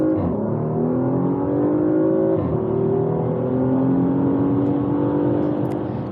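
A Porsche Macan S with a 2.9-litre twin-turbo V6 accelerates hard. The engine note climbs, breaks briefly for a gear change, then climbs again in a strong, steady pull that sounds fairly close.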